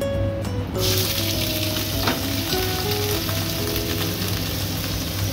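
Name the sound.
cumin, raw onion and tomato frying in oil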